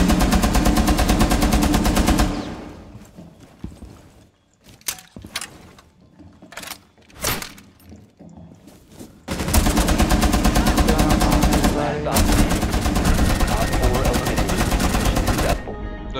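Rapid automatic gunfire in the tactical shooter Rainbow Six Siege, long sustained bursts of loud, close shots at the start and end with a quieter gap of scattered single shots and clatter in between, a voice talking over it.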